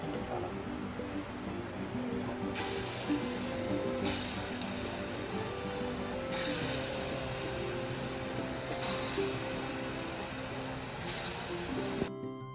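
Bora fritters frying in a pan make a steady, dense sizzling hiss that runs unbroken throughout, close and fairly loud, with a faint tonal hum underneath and no talking.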